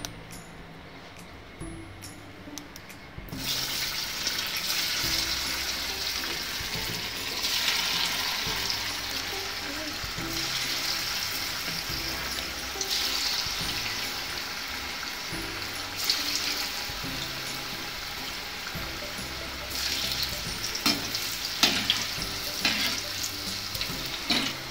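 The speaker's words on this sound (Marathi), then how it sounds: "तळून घेऊयात अशा व्यवस्थित" Sliced kothimbir vadi dropped into hot oil, a quiet start giving way to a loud, continuous bubbling fry that lasts throughout, with occasional utensil clinks and no talking.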